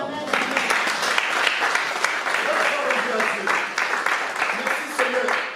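Church congregation breaking into sustained applause and cheering, a dense wash of clapping lasting several seconds with voices mixed in.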